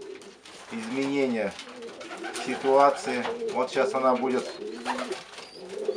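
A pigeon hen coos repeatedly near her nest of chicks in a dovecote, soft rolling coos rising and falling close by, while someone speaks over them.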